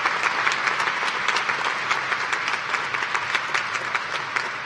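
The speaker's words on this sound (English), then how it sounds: "Let's give another round of applause to our doctoral graduates." A commencement crowd applauds doctoral graduates at a university graduate ceremony with a brisk, steady clatter of many hands, loud and full throughout.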